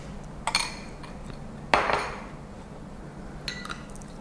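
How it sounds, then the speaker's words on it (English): A metal spoon clinking against a glass while fresh passion fruit is added to peach juice for a boba drink: a few sharp, close taps spaced over several seconds, one louder ringing clink in the middle, no talk. "I'm going to add a spoon of my fresh passion fruit"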